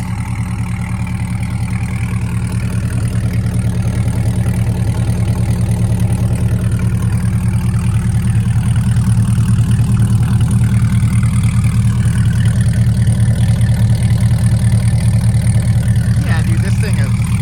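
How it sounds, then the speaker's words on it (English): A Corvette C8 with a Corsa track edition exhaust idles loudly with a deep, steady rumble, constant and close throughout with no change in pitch. "So this is it idling right now."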